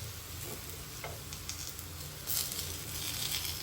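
Kebab pieces sizzle in a pan as they are turned one by one, a soft steady frying hiss with a few light clinks and a louder crackle partway through; no voices.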